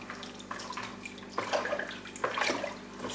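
Spoon stirring water during a coconut husk soak, soft sloshing and swirling with a few louder splashy surges, close and fairly quiet over a faint steady hum.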